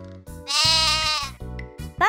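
A sheep bleats in a loud, close, wavering baa, with a short tonal lead-in before it and another call starting at the end.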